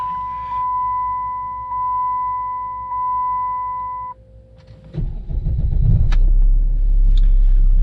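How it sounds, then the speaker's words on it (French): A Chrysler 300C engine cranks and fires up after a few repeated chimes, then settles into a loud, steady idle rumble close by. "si je démarre et que je passe la marche arrière"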